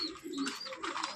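Pigeons in a loft, including Rajasthani red pigeons, cooing and calling in a steady, fairly close murmur of overlapping low coos and soft chirps, with no talk.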